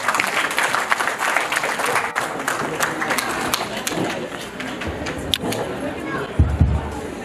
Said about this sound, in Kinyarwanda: Reka tumuhe mumpera amashyi